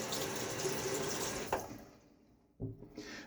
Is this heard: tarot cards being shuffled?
no